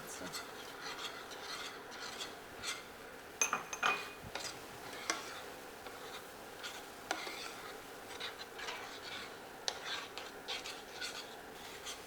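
Soft scraping and rasping of a spoon stirring strawberries in a pot, with irregular light knocks against the metal, quiet and close.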